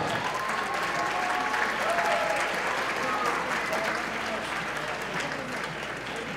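Audience applause for ballroom dance competitors at the San Francisco Open, a steady, full round of clapping from a large crowd with faint voices mixed in, continuing evenly throughout.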